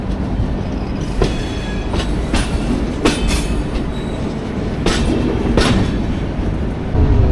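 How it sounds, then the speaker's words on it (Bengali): Dhauli Express, a superfast passenger train from Puri, running on the tracks after leaving Bhubaneswar: a steady loud rumble of wheels on rail with periodic clacks over joints, recorded from inside the coach, no talking. "আমাদের ট্রেন ছেড়ে দিল ভুবনেশ্বর"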